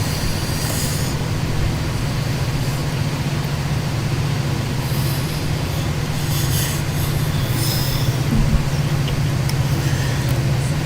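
In the Open Rails train simulator, UP 844 climbs Cajon Pass with two diesels on the rear, making a constant heavy rumble with wheel squeal and metallic hiss that grows and fades over the steady drone.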